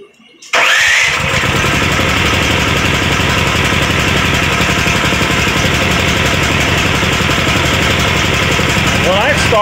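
An engine starts after the fuel is turned on, catching abruptly and then settling into a loud, steady, close idle for several seconds.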